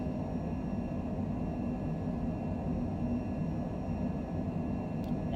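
Airliner engines held at takeoff power in Microsoft Flight Simulator, a steady, loud broadband roar with a faint high whine running unchanged throughout, no voices.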